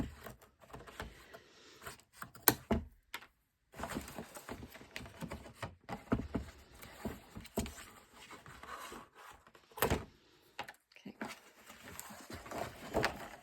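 Scissors or a craft knife cutting pieces off a paper letter box base, giving irregular snips and crisp cuts up close with short pauses between them.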